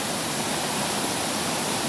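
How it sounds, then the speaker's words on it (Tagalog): Strong spring water on Mt Banahaw pours and rushes in a dense, continuous roar, loud and close, with no other sounds. "lakas po ng tubig"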